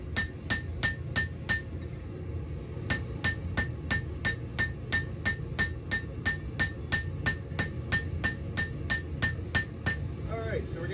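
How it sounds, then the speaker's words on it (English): A hand hammer forges tapers on steel S hooks, striking the anvil in quick ringing runs of blows with short pauses between groups. The hits are close and bright. "we're getting our tapers forged out. We're going to work out any of the old hammer marks"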